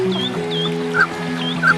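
A colorful mandarin duck bathes in tranquil summer water, giving soft repeated calls and brief louder quacks at close range, with faint splashing around them.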